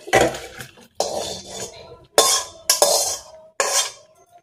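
A metal cooking pot, holding a finished vegetable curry, being lifted and set down in a home kitchen, with five sharp clanks and scrapes at irregular intervals, close and loud, and no talk.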